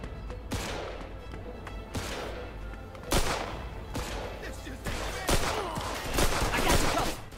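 Repeated gunfire from the Mafia II video game, with sharp shots in irregular bursts roughly every second, loud and close, over a constant background din.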